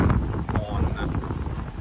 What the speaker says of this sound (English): it's very windy and it actually started raining